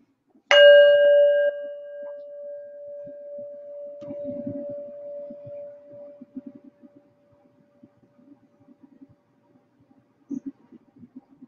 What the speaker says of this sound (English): I'll go ahead and just use this bell to support us in focusing for a few minutes together